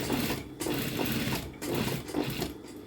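Sewing machine stitching down a garment seam, a dense, fast mechanical whir running continuously with two brief pauses, close and steady.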